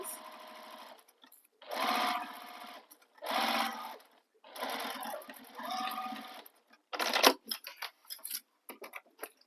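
Sewing machine stitching a bag, running in several short, steady whirring bursts separated by pauses, then a few quick stop-start clicks, close and fairly quiet.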